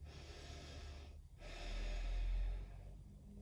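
Slow, steady breaths during a seated chair yoga session, each inhale and exhale close and soft with a brief pause between, and no talking.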